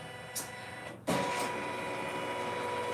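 A Brother embroidery machine stitching an appliqué hamburger design, a steady mechanical whir and buzz running continuously after a brief clunk, close and moderately loud with no voices.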